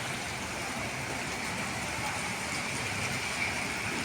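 Rain falling outside in Quezon City on an overcast day, a steady, moderately loud hiss of downpour with a broad wash of noise and no clear talk over it.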